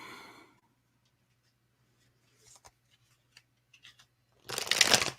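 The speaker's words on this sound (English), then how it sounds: "Shuffling a little more." A Wizards Tarot card deck is shuffled in a quiet room: a few soft taps and rustles, then a loud, dense burst of riffling cards near the end.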